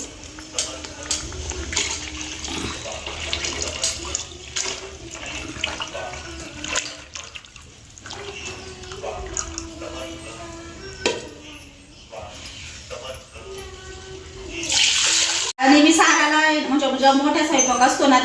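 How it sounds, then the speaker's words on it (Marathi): Water from cooking dal poured into fried masala in a pan on a home stove, a loud rushing splash and sizzle near the end after a long stretch of someone talking over faint kitchen noise. "हे पाणी त्याच्यात ओतून देणार आहे"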